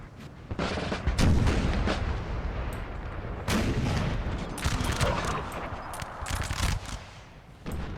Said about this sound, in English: the Russian artillery here is just simply just trying to raise these buildings to the ground